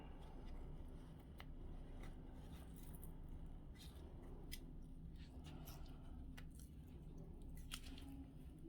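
Scissors faintly snip through a small piece of material used for bowel care, several quiet cuts spread over a low, steady background hiss.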